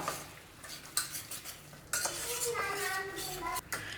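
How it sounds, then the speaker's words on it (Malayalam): Rava vada batter with salt being stirred by hand in a bowl, scraping and clinking of a spoon against the vessel in irregular bursts, close and fairly quiet, with no talking. "ഉപ്പ് ചേർത്തതിന് ശേഷം നന്നായിട്ട് തന്നെ ഒന്ന് മിക്സ് ചെയ്തെടുക്കാം കേട്ടോ"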